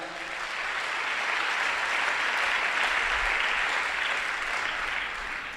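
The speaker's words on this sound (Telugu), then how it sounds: "కొట్టు చప్పట్లు గట్టిగా" Loud, dense applause from a church congregation fills the whole stretch, steady and sustained without pause, with no voices breaking through.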